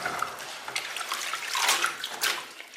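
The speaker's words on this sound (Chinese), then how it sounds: "咱韭菜洗干净" Chives being washed in a basin of water, with close splashing and sloshing as the leaves are swished about; no speech.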